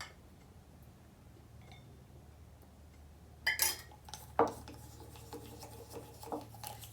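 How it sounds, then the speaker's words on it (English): A homemade sugar scrub stirred with a small wooden spatula, a few soft gritty scrapes and taps starting after a quiet stretch, close but faint. "I'm going to use my little wooden spatula to give it a stir."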